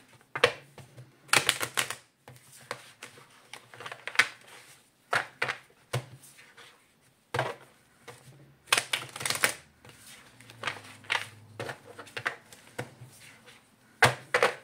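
Tarot cards are shuffled by hand in quick bursts of crisp riffling clicks and slaps, with short pauses between them, close and fairly loud with no talking.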